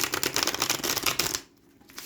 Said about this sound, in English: I'll have to give them a few shuffles